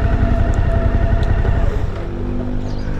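At a petrol station, a motorcycle engine rumbles close and loud, a rough continuous drone that softens slightly toward the end, with no talking heard.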